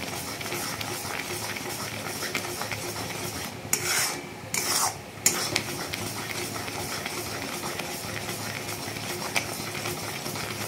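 Steady scraping and rasping as jaggery is stirred in a pan for a flattened-rice sweet, a continuous close-up rubbing texture with a couple of brief sharper scrapes partway through.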